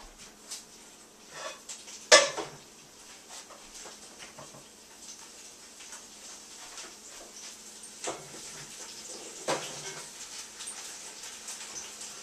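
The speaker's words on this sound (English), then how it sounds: "I'm just going to take this and add it to my hot skillet" Roughly chopped vegetables for homemade vegetable broth are dumped from a cutting board into a hot skillet, giving a sharp clatter of pieces landing, then scattered softer knocks and light sizzling, close by with no voices.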